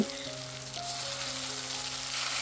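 Spice paste hitting hot oil after mustard seeds and cumin have spluttered, making a steady close sizzle with a few faint tonal hums underneath, for a Kathiyawadi corn curry cooked over a desi clay stove.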